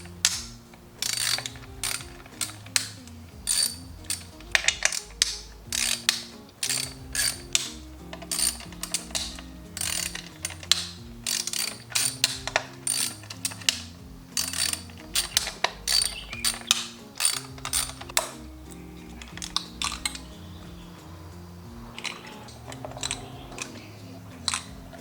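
Ratchet wrench backing out the 10mm coil pack bolts on a BMW E36 engine: rapid clicking bursts, close and loud, repeating through the whole stretch with short pauses between bouts and no talking.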